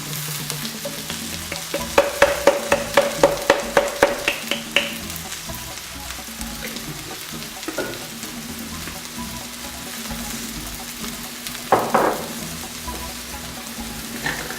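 Ginger powder stir-frying in a hot pan, a steady close sizzle with a run of rhythmic scraping strokes from a utensil early on, then occasional louder scrapes, with no voices.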